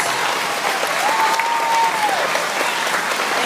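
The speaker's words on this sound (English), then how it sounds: "Let's give these fifth graders another round of applause" A school assembly audience at an elementary Veterans Day event gives fifth graders a round of applause. The clapping is steady, full and even throughout, with no talk over it.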